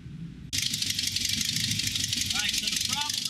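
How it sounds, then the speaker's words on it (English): A truck engine cranks and catches, then settles into a steady rattling idle, loud and close, in a shop setting where a misfiring cylinder is being diagnosed. "let's go ahead and get this truck cranked up"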